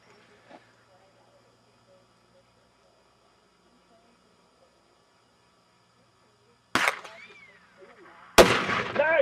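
Two loud, sharp gunshots at an outdoor pumpkin shoot, each a sudden crack with ringing tail, coming after several seconds of near silence with faint distant voices.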